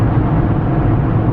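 A Nissan GT-R R35 with a custom exhaust drones steadily from inside the cabin while cruising, a low, even rumble that holds constant throughout with no talk.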